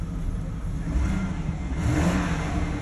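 A 2003 BMW 545i V8 automatic revs steadily close by, a deep rumbling roar that swells slightly louder partway through, with no talking.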